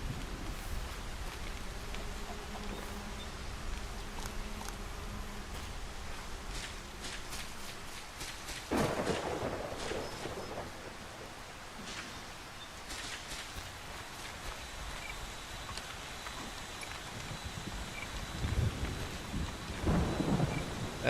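Steady rain hisses throughout a rainy day in Solarpunk, while rolling thunder booms up close midway and again near the end, with no voices.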